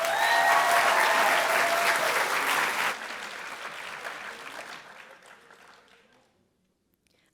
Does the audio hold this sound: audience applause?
yes